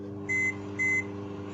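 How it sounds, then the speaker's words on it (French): A microwave oven gives two short, clear electronic beeps in steady succession as a mug cake timer is set to one minute thirty, with faint background hum and no talking. "nous allons mettre 1 minute 30"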